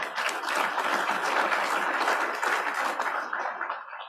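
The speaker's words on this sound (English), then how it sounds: "Can you give them a round of applause, please?" Meeting attendees give a round of applause for departing board members, dense even clapping throughout that tapers off near the end, no voices over it.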